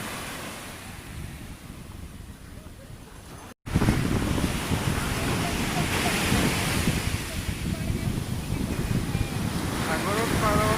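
Ocean surf at Elliots Beach, a broad rolling wash of waves mixed with wind buffeting the microphone, quieter at first, then louder after a brief cut, with faint voices in the background.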